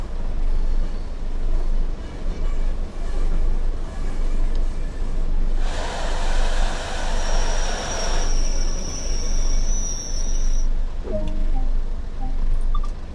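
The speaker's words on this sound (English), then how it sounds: "Sounds like a tube train." A London Underground-style tube train in Train Sim World rumbles steadily along the rails, with a louder burst of rolling noise midway and a sustained high wheel squeal before it eases off near the end.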